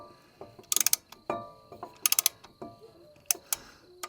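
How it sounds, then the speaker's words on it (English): Brake caliper piston on a Cherokee being pushed back with a hand compression tool, heard as bursts of sharp ratcheting clicks in quick clusters, close and fairly quiet, with pauses between. "Brake caliper was a little tight, so we're just going to use this tool to compress it back just a little bit."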